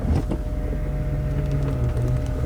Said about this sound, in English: let's hear the noises of the Cayenne Turbo